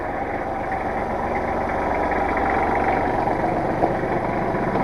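A heavy tractor engine idles steadily and close by, a constant low rumble with no one speaking.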